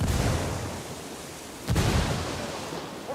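A dull, heavy burst from a frag grenade detonating in Ghost Recon: Wildlands rises out of a constant wash of broadband noise, with a low rumble lingering after it.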